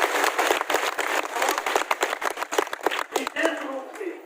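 An audience at an ashram gathering applauds in a dense burst of clapping that starts at once, holds steady and then thins out toward the end, with some voices audible over it.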